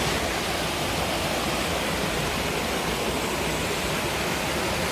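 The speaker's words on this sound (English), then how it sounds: "So this is the point where the lake overflows." Lake water pours over a canal outlet in a continuous broadband rush, a dense close roar like a small waterfall, holding steady throughout with no voices.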